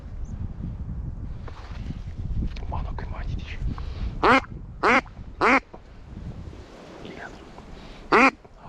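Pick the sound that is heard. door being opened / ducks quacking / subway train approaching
ducks quacking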